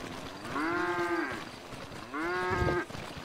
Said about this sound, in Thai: วัว